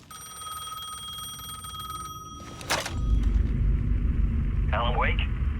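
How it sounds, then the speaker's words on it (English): Payphone ringing in Alan Wake 2, a steady electronic bell tone held for a little over two seconds before a sharp burst cuts it off, followed by a loud low rumble and a brief warbling sound. "The payphone was ringing again."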